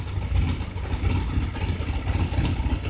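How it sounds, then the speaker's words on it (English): Motorcycle engine idling on with its key taken out, a close rumbling low putter with an uneven throb that continues steadily throughout. "and the bike still runs."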